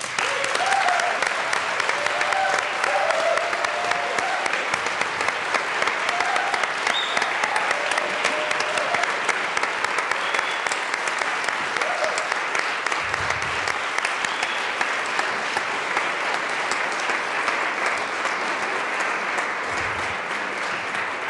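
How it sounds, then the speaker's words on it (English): Legislators of the Colorado General Assembly stand and applaud in the chamber, a steady, dense round of clapping that carries on evenly for about twenty seconds without talk over it. "members, if we could stand and give an applause and to recognize their accomplishments."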